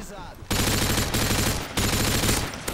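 Dense automatic gunfire in Modern Warfare 2 roars in long, loud bursts broken by brief pauses.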